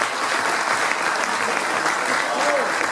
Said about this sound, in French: Alors, applaudissez très très fort, parce que Seb,